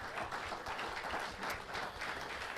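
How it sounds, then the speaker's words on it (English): A round of applause from an audience at a tennis association speaker event, steady and moderately faint, with dense clapping sustained evenly throughout with no voices over it. "they deserve a round of applause for that sportsmanship"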